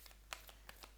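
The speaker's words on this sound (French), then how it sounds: "Ça va être dur à mélanger là, dans les premiers temps" A new, stiff oracle card deck being shuffled by hand: a few soft, quick riffling flicks, faint and close, with no voices.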